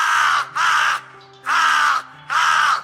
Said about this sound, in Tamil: இது ஒரு காகத்தினுடைய சத்தம்.